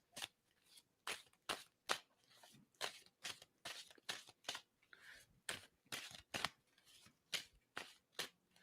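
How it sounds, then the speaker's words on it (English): Tarot cards being shuffled by hand, a rapid series of crisp riffles and snaps in a regular rhythm, close and fairly quiet, with no talk. "I'm going to stop shuffling on that"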